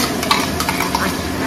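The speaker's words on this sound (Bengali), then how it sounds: "এবার সবকিছুকে ভালো করে মিশিয়ে নেব।" Onion and garlic paste being stirred in a frying pan: a steady sizzle and wet scraping with a few light spoon or pan knocks, close and fairly loud, with no talking.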